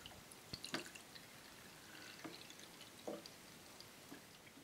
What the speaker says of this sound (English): And carefully pour the water in.